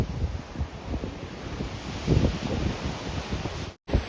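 Rough sea waves break against large rocks along the Isabu coastal trail in Samcheok, Korea. The surging roar is steady, loud and close, mixed with wind buffeting, and no one speaks.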